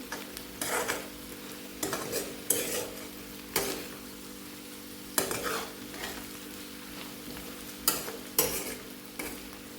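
Bitter gourd and onion fry in a pan, with a constant soft sizzle broken by regular sharp scrapes of a spoon stirring against the metal, close and clear, with no talking.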